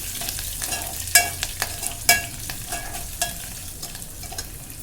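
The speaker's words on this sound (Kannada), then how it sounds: "ಉದ್ದಿನಬೇಳೆ ಸ್ವಲ್ಪ ಬ್ರೌನ್ ಕಲರ್ ಬರೋ ತನಕ ಸ್ವಲ್ಪ ಫ್ರೈ ಮಾಡ್ಕೊಳ್ಳಿ." Urad dal and green chilies frying in oil for idli bath: a gentle sizzle broken by a few sharp spatula clinks and scrapes as they are stirred, no talking.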